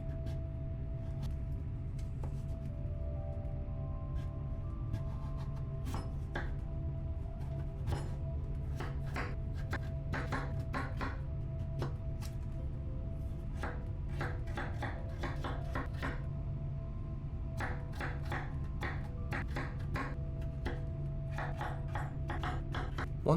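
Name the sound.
knife cutting butternut squash into cubes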